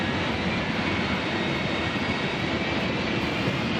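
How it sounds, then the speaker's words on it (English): A steady, loud roar of a jet engine on a jet-powered truck fills the clip without pause, a dense broadband rush with a faint high whine on top. "a jet engine powered truck"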